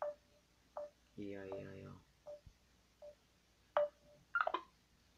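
A telephone is dialed, its short tonal beeps sounding one at a time at uneven intervals and then as a quick closing burst, with a brief spoken word partway through.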